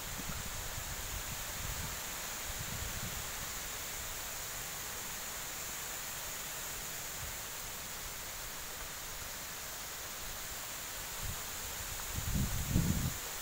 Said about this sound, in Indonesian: Angin ribut.